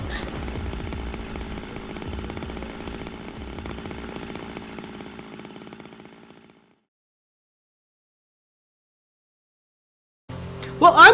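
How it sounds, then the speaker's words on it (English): A chainsaw in the video game Zero Time Dilemma roars steadily at a loud, constant level for about six seconds, then cuts out into silence before a sharp burst of other noise returns at the end. "That explains the chainsaw."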